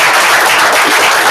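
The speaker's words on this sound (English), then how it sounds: "let's give all the award winners a nice round of applause" A loud, dense round of applause for award winners at a gathering, many hands clapping continuously and close.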